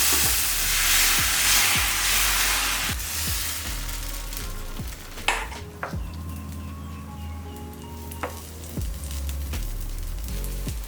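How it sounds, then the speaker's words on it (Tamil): Tomato and wheat rava dosa batter sizzles on a hot griddle over a medium flame, a steady frying hiss loudest at first and then settling, with a few soft knocks and scrapes of a utensil. "இப்போ மாவு எடுத்து நம்ம தோசை ஊற்றிக்கலாம்."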